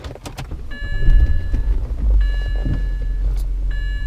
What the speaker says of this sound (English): So I'm gonna go ahead and turn the car on